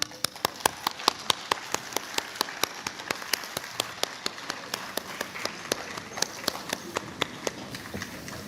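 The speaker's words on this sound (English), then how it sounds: "A round of applause." An audience applauds at a university lamp-lighting ceremony, with sharp, evenly paced claps ringing out over a quiet hall and continuing steadily throughout.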